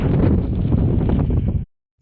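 Strong gusting wind on the Appalachian Trail buffets the microphone with loud, steady low rumble, continuous for most of the moment before cutting off abruptly.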